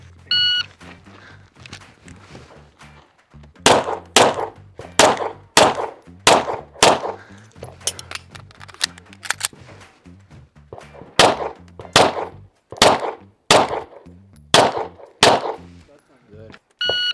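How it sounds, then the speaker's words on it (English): Suppressed pistol shots at an NRA Action Pistol match, a long string of sharp, fairly loud reports fired in quick groups with short pauses between them, no talking. "We are learning how to shoot the suppressed gun as we continue throughout the day."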